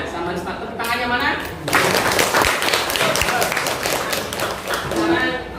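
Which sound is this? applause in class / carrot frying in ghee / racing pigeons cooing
applause in class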